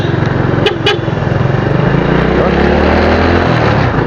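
Two motorcycles ride along a road at night in Rizal, their engines droning steadily up close, with a couple of short horn toots early on and voices talking over the ride.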